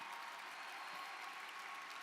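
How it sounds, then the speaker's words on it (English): Commencement audience applause rolls on as a continuous, even wash of many hands clapping in a large space, fairly distant and steady with no voices standing out. "give your families and friends a big round of applause"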